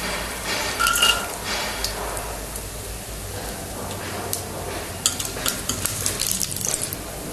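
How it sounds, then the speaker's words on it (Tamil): Chana dal, urad dal and cashews fry lightly in a pan for pudina rice, giving a soft steady sizzle with occasional spoon scrapes and metallic clinks against the pan, close up, with no talking. "கடலைப்பருப்பு உளுத்தம் பருப்பு நம்ம முந்திரியும் போட்டு லைட்டாக ஃப்ரை ஃப்ரை பண்ணிக்கலாம்"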